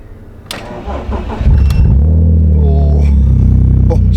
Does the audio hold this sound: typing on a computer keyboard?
no